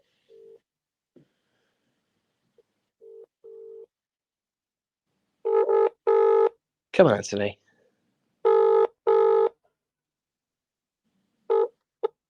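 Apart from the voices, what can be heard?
telephone ringing on a call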